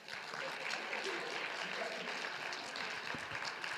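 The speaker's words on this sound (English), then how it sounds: "One more round of applause." Sustained audience applause fills a graduation ceremony hall at a medical school class day, a steady dense clapping wash with no pauses.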